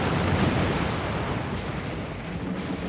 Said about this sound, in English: Another bloody explosion.